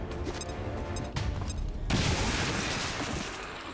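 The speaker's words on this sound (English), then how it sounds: "Right, just throw a grenade." Grenade blast in the turn-based strategy game XCOM 2: a sharp, loud burst of broadband noise at the midpoint gives way to rumbling debris and crackle. It fades slowly under steady low-level game ambience.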